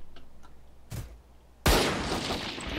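A flashbang ability in a video game goes off with a short burst and then a sudden loud, broadband blast that rings on as a sustained noisy wash.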